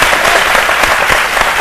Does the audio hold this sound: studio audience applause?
yes